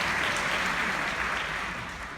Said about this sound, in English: A note to host, never step on applause.